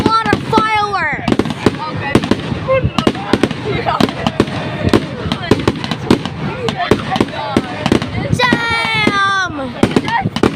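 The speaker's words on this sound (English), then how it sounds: "A lot of fireworks." Sustained fireworks show at Pounawea: continuous popping and booming explosions, whistling rockets shrieking upward early and again near the end, loud and close, with people chatting and reacting throughout.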